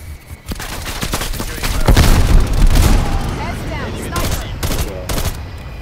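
A flashbang grenade goes off during a video game firefight: heavy booms and bursts of gunfire overlap, swelling to a loud peak near the middle and then trailing into scattered sharp cracks.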